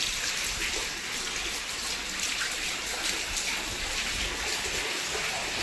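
Steady, dense rain pouring down nearby, a continuous hiss without pause.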